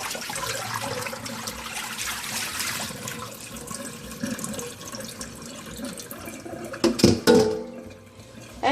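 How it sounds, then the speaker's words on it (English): Water is poured off thawed raw chicken into a sink, making a continuous splashing, trickling wash that swells into a brief louder gush near the end before it tapers off. "Our chicken is totally thawed, and so we're going to just pour this water off."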